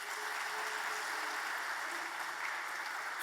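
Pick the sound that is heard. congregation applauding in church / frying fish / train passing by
congregation applauding in church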